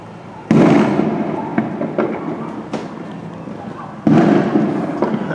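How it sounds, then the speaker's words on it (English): Fourth of July fireworks burst in several loud, sharp booms with crackling tails, two especially strong blasts near the start and end, heard from fairly close outdoors. "And they're just getting the fireworks started"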